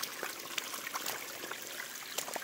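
A small stream of cold water in the Konkan countryside at Sonavde village, trickling and babbling steadily at close range, with a few brighter splashes rising above the constant flow and no talking.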